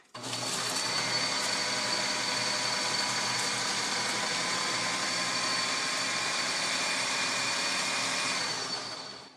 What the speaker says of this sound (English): Now that I have everything in the food processor, I'm just going to blend it really good.